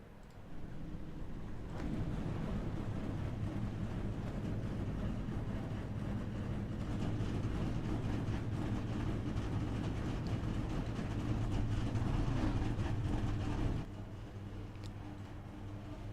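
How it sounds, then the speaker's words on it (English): The engines of 23 NASCAR race cars fire up at Charlotte Motor Speedway in the iRacing simulator, a steady, dense droning roar that kicks in abruptly, holds for about twelve seconds, then drops to a quieter rumble. "the engines had been fired up out of 23 of the cars"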